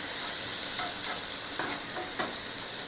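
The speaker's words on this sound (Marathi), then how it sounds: "कोथिंबीर पण आपण थोडीशी परतून घ्या तेलामध्ये" Coriander leaves sautéing in hot oil make a constant loud sizzle, with a few close spatula stirs scraping through it.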